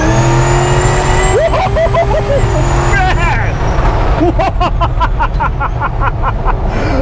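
A classic truck swapped with an LS V8 of over 600 horsepower, running 3.73 gears, an Eaton TrueTrac and a stock 12-bolt axle, accelerates hard. The engine revs up through rising gear pulls, loud and close, with excited voices over it.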